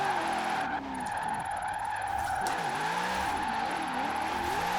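A Corvette C8 slides through a drift in the Forza Horizon racing game, its tires squealing steadily over a loud, continuous engine drone with pitch swoops as the throttle rises and falls.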